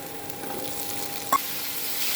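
Mustard seeds, dried red chillies and whole white cumin crackle as a tempering fries in hot oil, a steady soft sizzle with one sharp pop partway through, heard close and alone.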